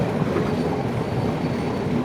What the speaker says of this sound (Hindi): एक अच्छी रफ्तार में चलने वाली ट्रेन